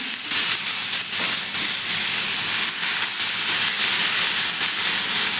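Raw tomatoes for a spicy thecha dropped into hot oil in a pan, giving a loud, steady, close sizzling hiss that carries through the whole stretch with no talking.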